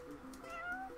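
A cat in the video game Final Fantasy XV gives a short, soft meow, faint and wavering, with a quiet background hum and no talk over it.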